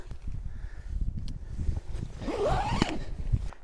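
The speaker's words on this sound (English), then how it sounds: "Zip up those doors." The door zipper of an X-Mid trekking-pole tent is pulled closed in a short, rising rasp near the end, after quieter rustling and handling of the fabric.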